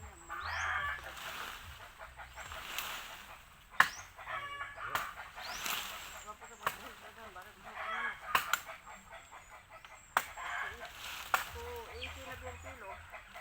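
Chickens cluck and a rooster crows intermittently, with sharp knocks and a person talking off and on throughout.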